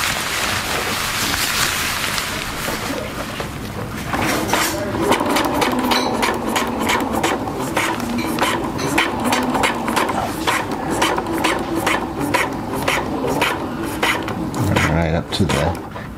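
A sewing machine runs steadily, stitching around the edge of a black silnylon panel to tack it together for an ultralight 9 by 5 foot ski mountaineering tarp, a continuous close buzz with faint rhythmic fabric rubbing throughout.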